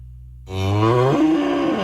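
A cow in a radio advert gives one loud, sustained moo that rises and then holds steady, clear and close, with no talk over it.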